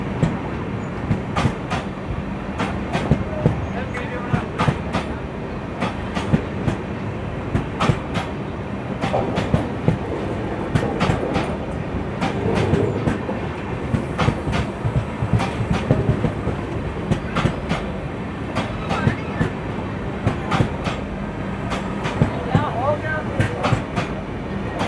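The 17642 Narkher–Kacheguda Intercity Express rolls along the track on its last day behind a diesel locomotive, with a steady rumble and repeated clickety-clack of wheels over rail joints. A voice talks now and then over the noise.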